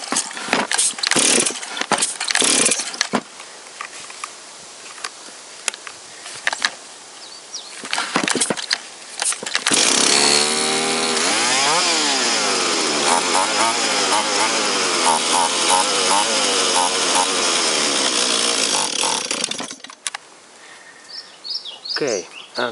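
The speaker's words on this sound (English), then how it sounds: "now this engine starts" A small two-stroke chainsaw engine with a carburetor issue sputters and catches, then roars steadily at high revs for about ten seconds before cutting out, with clattering handling noises before it.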